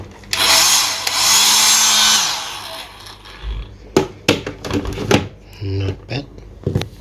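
A hotel-room hair dryer runs for about two seconds with a loud, steady high-pitched whoosh, then switches off, followed by scattered knocks and handling clatter.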